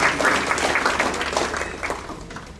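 Steady applause from an audience at a school district staff awards ceremony, honoring an award recipient; dense, continuous clapping that holds at an even level throughout and tapers slightly near the end.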